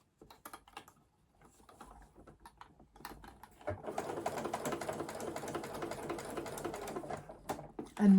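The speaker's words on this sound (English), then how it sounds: "So sew and reverse at the start of your seam." A sewing machine with a zipper foot stitches piping cord into a seam, starting with a few sparse clicks and short bursts before settling into a fast, steady mechanical chatter, close and fairly loud.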